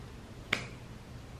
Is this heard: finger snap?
yes